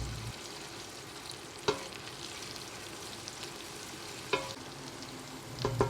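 Onions sautéing in oil with garlic paste, a soft continuous sizzle with a few sharp stirring clacks of a spoon against the pan.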